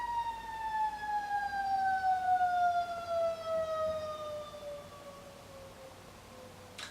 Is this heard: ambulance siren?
yes